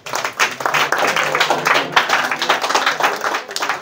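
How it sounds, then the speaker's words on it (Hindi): Audience clapping for a student at a school prize distribution for monthly exam results and Class 11th and 12th, with dense, steady applause throughout at close range. "हाँ ताली बजाइए इनके लिए"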